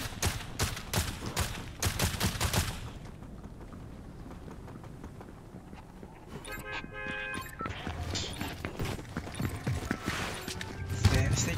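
Rapid gunshots ring out in an online shooter's lobby, a burst of loud cracks at the start, then scattered shots and game effects under a steady background, with a voice talking.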